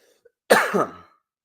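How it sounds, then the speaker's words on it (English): A single phlegmy, wet cough bursts out close and loud, then trails off into a raspy throat-clearing rattle, with a faint click just before it. "I got my fucking phlegmy cough"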